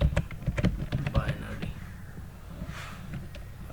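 Quick, light keystrokes clatter on a computer keyboard while someone types HTML5 and JavaScript code for a decimal-to-binary converter. The clicks come in an irregular burst, then thin out into quieter room noise, with a faint voice in the background.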